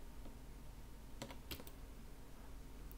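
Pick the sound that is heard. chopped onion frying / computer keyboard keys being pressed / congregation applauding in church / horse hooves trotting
computer keyboard keys being pressed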